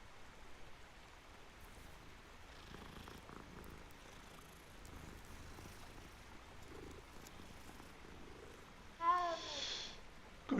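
A cat in the video game Hogwarts Legacy purrs softly and continuously against a quiet background, with a brief louder game sound near the end.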